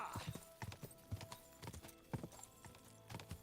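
Horse hooves clip-clopping at a steady riding pace through woods in Kingdom Come: Deliverance 2, repeated dull thuds with faint ambient game sound underneath.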